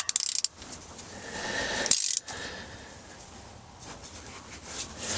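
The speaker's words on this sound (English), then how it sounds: "It's kind of hard to tell how tight I've got it with this giant ratchet I shouldn't be using" A giant ratchet tightens a bolt on a 1978 Chevrolet square-body truck. Sharp metallic clicking bursts come first, then another brief clatter, and then a quieter stretch of scraping and shifting.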